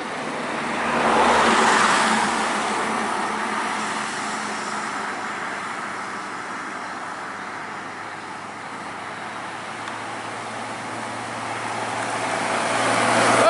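A Bintang Utara Putra bus pushing through jammed road traffic, heard as a steady, fairly loud engine and road rumble with the noise swelling near the start and end, no voices.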